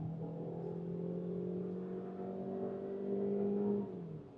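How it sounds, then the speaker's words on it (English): Maruti Suzuki Victoris automatic revving at full throttle in sport mode, a steady droning engine note climbing slowly in pitch from inside the cabin for about four seconds, easing off at the end, no talk. "And now listen to the engine. We are in sport mode, full pedal to the metal."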